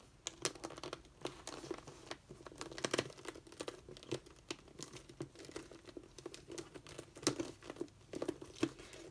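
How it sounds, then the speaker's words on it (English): A Nikon FTN camera being wrapped back into its case: soft, close crinkling and rustling of the case material with scattered small clicks and taps throughout, fairly quiet and with no voices. "So I'm just going to wrap this camera back up in the case, if I can get it situated correctly."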